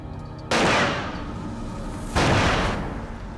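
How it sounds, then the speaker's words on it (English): Two loud, sharp gunshots about a second and a half apart, each a sudden broadband blast with a lingering decay, fired by a thief at a bank surveillance camera outside a bank. "one of the thieves fired 2 shots at the surveillance camera"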